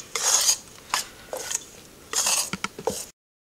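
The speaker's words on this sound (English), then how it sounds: "Then just mix that all together so it's evenly distributed." Sage and onion stuffing stirred in a bowl, producing close scraping and clinking of a utensil in a few short bursts before it cuts to silence.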